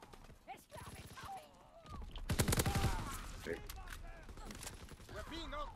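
Rifle gunfire in Call of Duty WWII: a rapid burst of loud, close shots in the middle, over busy game sounds and background effects.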